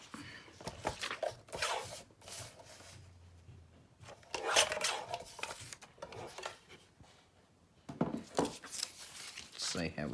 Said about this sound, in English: So I'm tearing it on the other side so that I don't have that white edge.